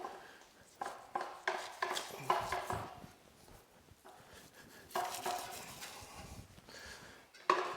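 A butcher knife works through a beef carcass to take off the flank, making close, intermittent scraping, cutting and slicing sounds with small knocks, without talk.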